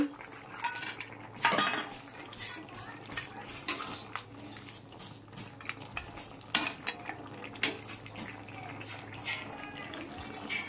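Bitter gourd and lentil dumplings (bori) are tipped into a cooking pan, giving a run of close metal clinks and scrapes from a spoon against the pan over a faint, steady sizzle, with no talking.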